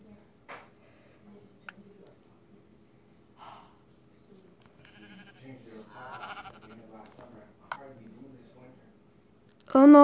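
Sheep bleating in a video game: a short, quavering bleat rises midway through a mostly quiet stretch, among scattered snorts, breaths and small game noises, before a loud burst at the end.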